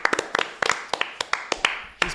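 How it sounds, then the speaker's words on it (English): One person claps their hands about a dozen times, sharp close claps in an uneven rhythm, on a live football talk show. "I'll give him a clap."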